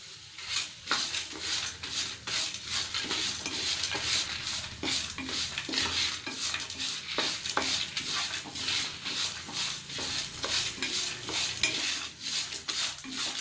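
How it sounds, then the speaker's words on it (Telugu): Sesame seeds roast in a pan for a Telugu brinjal and garlic dish, with a continuous rustling, scraping stir and light sizzle in a rapid, uneven rhythm throughout. "చివరిగా నువ్వులు వేసుకొని వీటిని కూడా వేయించుకోవాలి."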